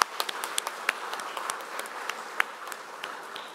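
A congregation claps during a church installation service, scattered, moderately faint hand claps with a few sharper individual claps standing out, no talk over them.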